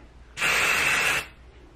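Dry volume blast hair spray hisses from an aerosol can in one steady burst of just under a second, close and fairly loud, with a quiet room before and after.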